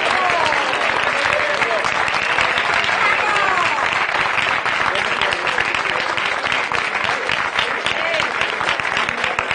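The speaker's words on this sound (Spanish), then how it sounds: "Fuerte aplauso para Full" A crowd at an outdoor street protest beside railway tracks in Murcia breaks into steady, loud applause for a participant, the dense clapping continuing unbroken throughout.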